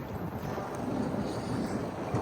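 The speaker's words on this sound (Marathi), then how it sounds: "म्हणजे किती वारा आहे. बापरे, प्रचंड वारा, खूप जास्त थंडी." A strong, cold wind blows outdoors near the World Trade Center in New York. It buffets the microphone in a low, rumbling, continuous roar.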